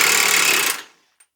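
Impact wrench or similar power tool spinning off nuts on a Ford Super Duty 4x4 rear suspension; one loud, rattling burst under a second long that stops quickly, followed by a faint click.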